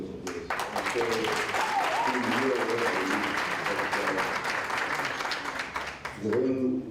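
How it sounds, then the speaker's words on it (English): An audience at a business breakfast event claps steadily for a guest in a room, with a voice talking over the applause before it briefly dips and then picks up again. "I'll give him a good round of applause."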